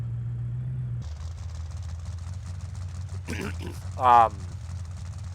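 A car from the Fast & Furious X pack in Forza Horizon 5 idles with a steady, low, close hum that shifts to a smoother tone after a second, with a brief spoken sound near the end.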